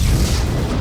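A deep, continuous rumble roars low and heavy, like a far-off boom rolling through the ground, loud and sustained without a sharp onset.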